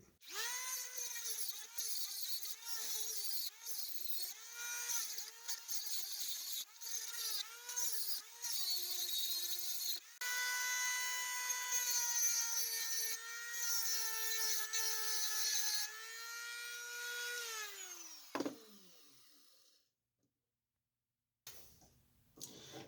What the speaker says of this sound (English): I grind this out with a router tool with a carbide tip on it.